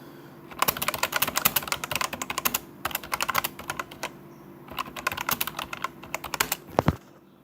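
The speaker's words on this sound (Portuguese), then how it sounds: "eu vou digitar um negócio aqui no Google aqui" Rapid bursts of typing on a computer keyboard as a Google search is entered, with close, crisp keystrokes grouped in quick runs separated by short pauses and one final sharper tap.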